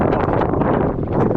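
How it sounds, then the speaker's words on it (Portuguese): Strong wind gusts buffeting the microphone on a rocky mountain summit at Agulhas Negras in freezing conditions, a loud continuous roaring rush with fluttering bursts. "essa ventania, eu tenho medo dela me desequilibrar"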